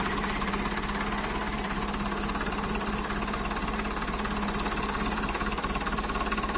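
A tractor engine runs steadily close by, a loud, even mechanical drone with a rapid knocking pulse that holds throughout.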